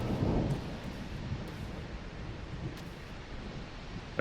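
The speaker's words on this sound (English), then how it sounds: "It's this heavy rain." Heavy rain pours steadily in a video game thunderstorm, a soft continuous hiss with a low rumble of thunder at the start and faint scattered crackles.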